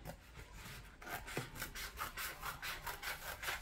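Cutting material for a Halloween craft tree produces a rhythmic back-and-forth rasping, like sawing or scraping, that starts after a quieter moment and repeats in steady strokes, close but fairly soft.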